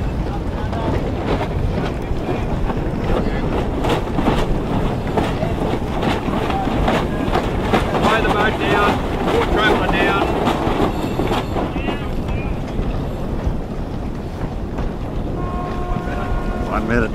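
A sailboat races in about 10 knots of wind on the first race morning of Airlie Beach Race Week, with loud, constant wind buffeting and rushing water; voices talk briefly underneath.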